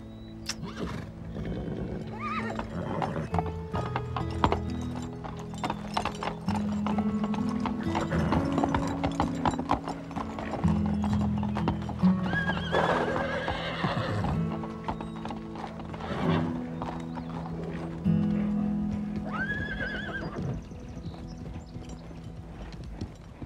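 Horses' hooves clip-clop steadily at a walk, with several whinnies and neighs rising over the hoofbeats throughout.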